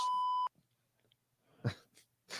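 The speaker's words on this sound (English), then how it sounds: "I love that bleep out button." A steady censorship bleep tone from a podcast's bleep-out button sounds loud and alone for half a second, then cuts off abruptly. A couple of brief coughs or throat noises follow in the quiet.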